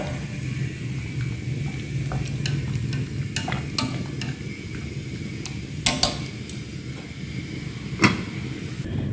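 Pig liver is stirred into a pot of pumpkin porridge, with scattered scraping and clinking knocks of a utensil over a steady background of simmering, bubbling hiss.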